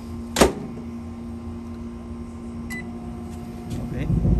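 A microwave oven running while heating water, with a steady low electrical hum throughout, a sharp click near the start and faint beeps later, while a rising rumble builds toward the end.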